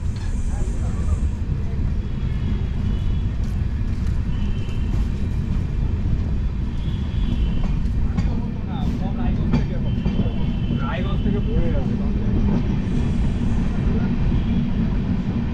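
The Radhikapur Express pulls out of Kaliaganj station, a continuous loud low rumble and rattle of rolling carriages filling the clip, with faint voices in the background.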